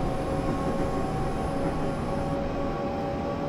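Train accelerating at full power in Train Simulator on a UK route from Faversham to Rochester, a steady loud rumble with sustained whining tones and no talk.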